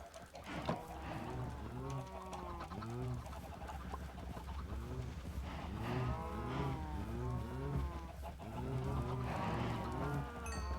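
Cows mooing repeatedly in Minecraft, their low drawn-out calls recurring every couple of seconds with clucking chickens mixed in, steady and fairly close.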